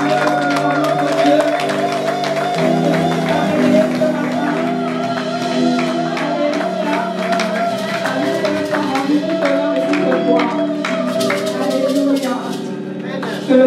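Church congregation at a Pentecost service raising acclamations, a sustained wash of voices, shouts and scattered clapping, loud and continuous throughout, with sung or spoken voices carrying above the crowd.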